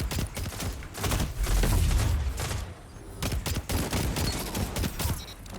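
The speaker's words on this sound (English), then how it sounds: "the scout rifle ain't all too bad. Feels good to shoot." Scout rifle fire in a Destiny Crucible match, a run of sharp repeated shots with a heavier burst of explosive booms near the middle, loud and close over busy game effects.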